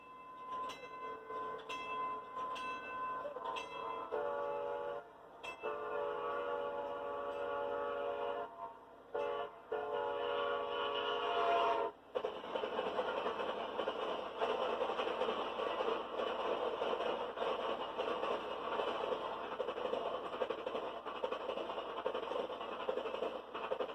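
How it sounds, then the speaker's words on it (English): Amtrak's Southwest Chief passenger train, hauled by a General Electric P-42 locomotive, sounds several short horn blasts and then a longer one before a steady, loud rumble of the moving train takes over. "Amtrak's Southwest Chief runs between Chicago and Los Angeles"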